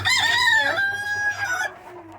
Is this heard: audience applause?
no